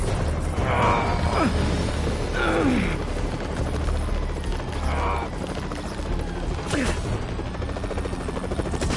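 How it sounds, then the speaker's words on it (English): A helicopter in a Spider-Man video game thrums steadily with a continuous rotor drone throughout, while game effects such as swooshes and impacts cut in over it at intervals. "They're stealing a chopper."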